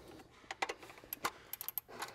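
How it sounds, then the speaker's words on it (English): A wrench and long wobble extension working the lower EGR bolt loose on a Ford 6.7L Power Stroke, heard as faint, quick irregular metallic ticks and clicks in a quiet space. "we're going to use this long wobble extension to access this lower EGR bolt"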